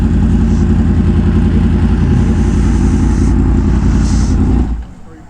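A V4 motorcycle engine runs loud and close in a steady, rumbling drone, then cuts off abruptly near the end, leaving quiet.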